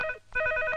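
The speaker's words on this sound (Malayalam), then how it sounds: "ഫോൺ എടുക്ക്." A telephone rings in a Malayalam comedy film scene, a brief electronic ring with a short gap before it resumes.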